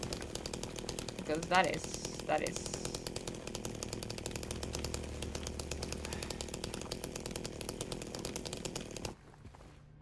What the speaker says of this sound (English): we're just gonna chainsaw our way through the fucking wall like a normal person